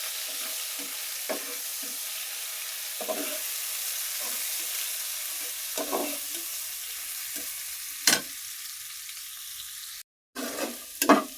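Washed shukto goes into a hot pan and is stir-fried. A quiet, steady sizzle runs underneath while the spatula scrapes at irregular intervals, and the sound cuts out briefly just before a last few scrapes.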